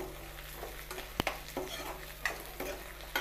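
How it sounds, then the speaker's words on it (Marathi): Spoon stirring salt and chilli into mashed eggplant in a hot pan, with soft sizzling throughout and a few sharp scrapes and knocks against the pan, close up. "यानंतर मी चवीपुरतं मीठ टाकती आहे आणि थोडंसं तिखट, याला मिक्स करून घेऊया."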